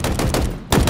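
S7 sniper rifle fire in Halo Infinite, a few sharp loud reports in quick succession, each with a booming tail, close and unobscured by voices.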